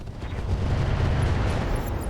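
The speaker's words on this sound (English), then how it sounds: "LRM ammo explosion, and the Ghost is out of here." A dense, sustained explosive rumble from an LRM missile ammunition explosion in the BattleTech-based mech game RogueTech, loud and continuous with heavy low-end roar throughout.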